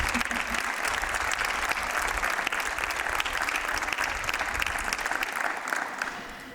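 A concert audience breaks into sustained applause for a performer, a loud, dense wash of many hands clapping that holds steady and eases off slightly at the end.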